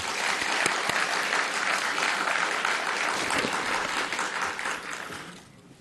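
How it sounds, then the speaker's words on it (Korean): Warm applause from the congregation at a hospital staff chapel service, honouring a soprano: a thick, sustained wash of many clapping hands that tapers off at the close. "박수 한 번 더 부탁드립니다."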